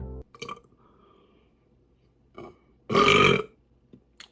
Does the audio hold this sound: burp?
yes